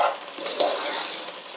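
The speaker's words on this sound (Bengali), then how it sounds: "হলুদটাকে আমি ভালো করে নেড়ে চেড়ে প্রত্যেকটা চাল ডালের গায়ের সাথে" Rice and lentils stirred with turmeric as they fry in a pot: a soft, steady scraping and light sizzle, close and fairly quiet, with a brief louder stir midway and no talking.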